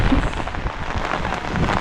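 Rain falls outdoors in the Konkan countryside during the rice-planting season, a close, continuous dense hiss of drops with no pauses.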